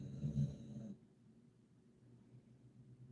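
A two-year-old dog snores close by: a short, rough, rumbling snore at the start, then soft, steady breathing in a quiet room.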